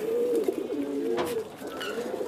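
Chila pigeons cooing close by, a run of soft low rolling coos repeating across the moment with a brief rustle in the middle.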